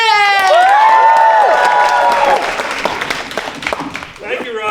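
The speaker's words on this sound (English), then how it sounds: "Can we give a round of applause for Bernie Jim?" Audience applause and cheering greet a faculty guest speaker at a live spring event: a loud burst of clapping with whoops, which thins into scattered claps.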